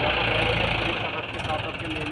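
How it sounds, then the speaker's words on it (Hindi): A Mahindra 575 DI XP tractor engine labours to pull a trolley loaded with logs, a loud, close diesel drone that shifts and roughens midway, with a voice talking over it. "दोबारा फिर से कोशिश की जा रही है ट्रैक्टर को निकालने की।"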